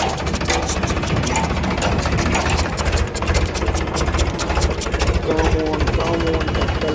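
Farmtrac 60 tractor engine running steadily while a JCB 4CX backhoe loads sand into its trolley, a continuous loud mechanical drone throughout, with voices calling out over it.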